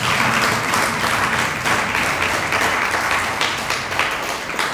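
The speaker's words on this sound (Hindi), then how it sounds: "अब ताली बजाओ।" An audience claps together during a Hindi religious sermon, a dense, sustained burst of applause that stays loud and steady for several seconds with no speech over it.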